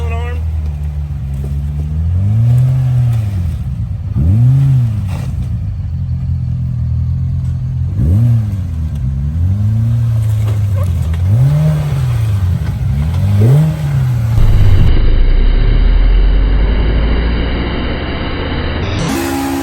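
Kenworth truck engine revving up and down in repeated surges while driving, with clattering and rumble, loud and close, a voice briefly heard near the end.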